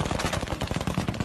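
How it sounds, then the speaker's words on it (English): Rapid bursts of high-powered gunfire from a video being played back, dense repeated shots rattling in a fast rhythm, fairly loud and unbroken by speech. "They definitely sound like high-powered gunshots, right?"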